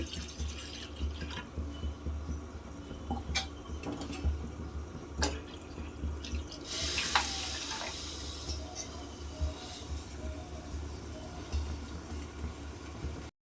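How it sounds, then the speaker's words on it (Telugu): Water being poured into a pot on a stove to cook ragi java, a steady wet pouring and splashing that keeps running through the whole stretch, with a few sharp drips and clinks, close by and with no talk. "స్టవ్ మీద గిన్నె పెట్టి వాటర్ పోసుకుందాం"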